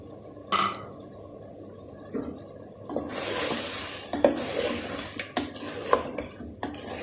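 Fried okra is tipped into a meat curry and stirred in the pan, with sharp clanks of a spoon on metal, scraping and a soft sizzle swelling up midway, no voices.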